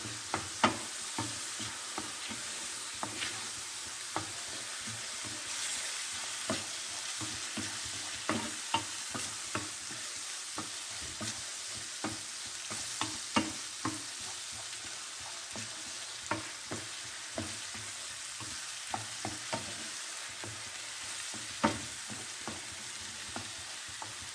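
Sliced button mushrooms frying in a pan, a continuous soft sizzle broken by frequent scraping and clicking taps as they are stirred, steady and close for the whole stretch with no talking.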